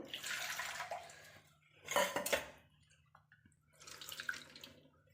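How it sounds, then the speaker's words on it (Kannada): Water poured into a mixer jar while grinding dosa batter in a home kitchen: two short splashing pours about two seconds apart, close and moderately loud over a quiet hum. "ಒಂದು ಸ್ವಲ್ಪ ನೀರು ಹಾಕ್ಕೊಂಡು"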